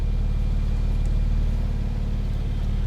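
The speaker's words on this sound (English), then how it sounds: "you've got that switchable sports exhaust with your sports chrono" A 2020 Porsche 911 Carrera 4S PDK convertible with a switchable sports exhaust idles close by. It gives a steady, deep, burbling rumble with an even pulse and no talking.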